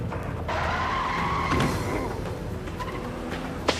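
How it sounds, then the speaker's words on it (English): A truck speeding through a street intersection, its engine and tires roaring and skidding loudly for several seconds, with a brief sharp thump near the end. "A truck speeds through the intersection and sends him flying."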